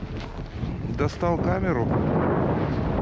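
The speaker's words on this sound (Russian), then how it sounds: "Ветер поднялся" Strong wind in freezing minus 45 cold in Norilsk rumbles and buffets against the microphone while someone speaks Russian briefly over it.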